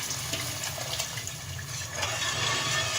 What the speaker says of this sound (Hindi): अब जो मैंने पानी तैयार किया था ना, वो हमने इसको ऐसे आहिस्ता आहिस्ता डालना है